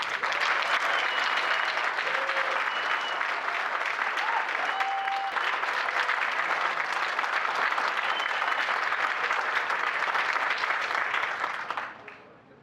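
Sustained applause from an audience at a chamber of commerce networking awards event, welcoming two speakers to the podium; steady, dense clapping holds for about twelve seconds before tapering off.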